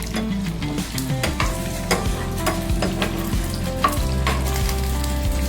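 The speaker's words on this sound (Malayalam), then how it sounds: "ആദ്യം തന്നെ കശുകൊണ്ട് ഇതിനകത്തേക്ക് കൊടുക്കും നമുക്കൊന്ന് ഇളക്കി കൊടുക്കാം" Cashews fry in ghee in a pan for kadachakka payasam, stirred with a steady sizzle and scraping strokes over background music, no talking.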